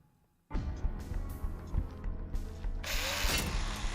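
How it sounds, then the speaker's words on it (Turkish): A saw trap triggers in a video game, starting abruptly after a brief quiet moment with a mechanical, grinding whir and clicking, then swelling into a harsher, brighter buzz near the end. "Testereye basacak."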